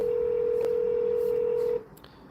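A single steady telephone keypad tone holds loud and unbroken for nearly two seconds, then cuts off into quiet line hiss with a faint click.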